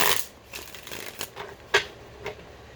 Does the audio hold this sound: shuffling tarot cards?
yes